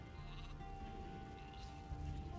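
Sheep bleating steadily in the Gothic 2 game world, a continuous nasal animal call heard alone at moderate loudness.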